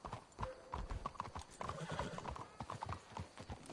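Horses walk along a path in a video game, hooves clip-clopping in a steady, close rhythm, with a brief whinny in the mix and no talk.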